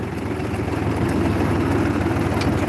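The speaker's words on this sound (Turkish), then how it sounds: "Hani traktör sesinden." A Ford tractor engine runs steadily at a low, chugging idle, close and continuous with no talk.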